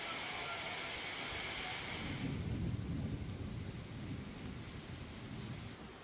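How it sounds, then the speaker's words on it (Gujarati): Heavy rain pours steadily during a thunderstorm in Rajkot, with a low rumble of thunder swelling in the middle and fading again beneath the dense hiss. "રાજકોટ શહેર સહિત ગ્રામ્ય વિસ્તારમાં ગાજવીજ સાથે મેઘરાજાની ધમાકેદાર એન્ટ્રી"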